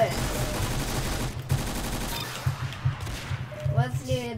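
Bursts of rapid gunfire in a Roblox Arsenal shooter match, clusters of shots fading into sparser pops, with a voice talking briefly near the end.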